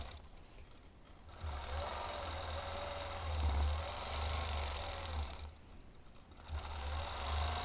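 A sewing machine stitches a crosshatch grid along a quilting ruler, running in long, steady motor-driven bursts with brief pauses between passes, close and clear.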